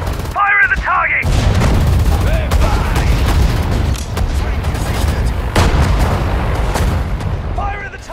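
Artillery and gunfire from the Sudden Strike 4 campaign at the Battle of Mareth Line, 1943, pound loudly in repeated booms and crackling volleys, with short bursts of unit voice lines at the start and end.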